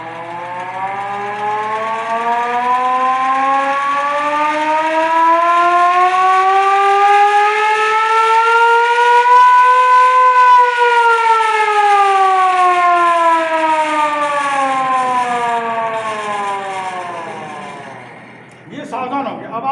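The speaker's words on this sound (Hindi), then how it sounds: "ये देखिए सावधान का जो सायरन बजा रहा हूं" A warden sounds a civil defense alert siren, its loud wail rising slowly to a peak and then falling back down in a single long cycle before cutting off.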